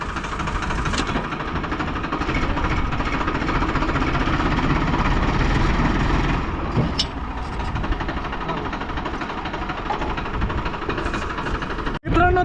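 A tractor engine runs steadily in a field in Punjab, a loud continuous rumble close by that holds for most of the stretch before a brief drop near the end, with occasional voices beneath it.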